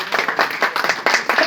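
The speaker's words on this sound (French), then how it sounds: "Ce sont des concurrents qui vous applaudissent." Competitors in an audience applaud in quick, roughly rhythmic bursts of clapping, close and moderately loud, pulsing several times in about a second and a half.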